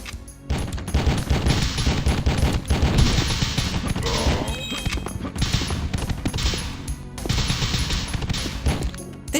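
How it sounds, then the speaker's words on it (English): Rapid gunfire from The Fifth Element PS1 game rattles in dense bursts, loud and close, with brief pauses between volleys and a metallic ringing tone in the middle. "I can't even see the guy and he's shooting me."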